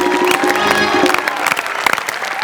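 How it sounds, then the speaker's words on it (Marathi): An audience applauds at a Marathi comedy stage show, with brisk, fairly loud clapping for a couple of seconds. A tonal musical sound runs underneath. "जोरदार टाळ्या हो."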